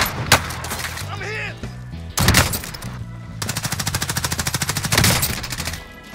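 Bursts of automatic gunfire from the video game Warzone: several short volleys, then a long rapid stream of shots, loud and sharp, with a player talking in between.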